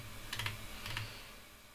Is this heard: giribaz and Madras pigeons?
no